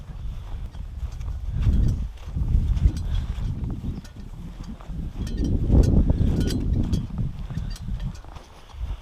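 Cattle moving nearby, with heavy hoof thuds, shuffling and the clank of bells over a low, steady rumble.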